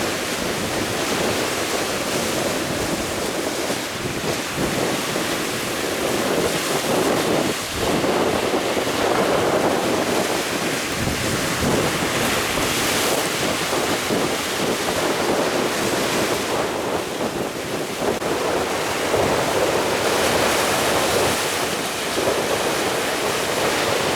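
Waves slap and crash against a boat near an island while strong wind buffets the microphone, a loud, continuous churning rush with irregular heavier hits throughout.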